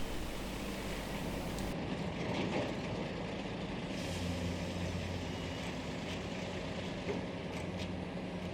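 A truck rolls into a marble quarry in Rajasthan to be loaded, a low steady engine drone with a brief hiss, heard from a moderate distance without talk.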